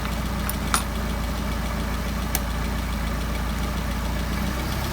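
A car engine fitted with a Solex carburetor idles steadily and close while the throttle is adjusted, a constant low rumble with a couple of faint clicks and no audible speech.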